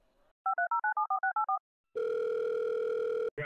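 A telephone line plays a rapid run of about ten touch-tone dialing beeps, then a long steady dial tone that cuts off abruptly; clean and close with no talk.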